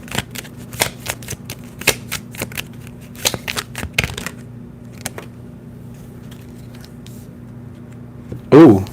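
Deck of tarot cards being shuffled and cut by hand, a rapid run of crisp riffling snaps and flutters that fades into quiet rustling, ending in a short burst of a voice.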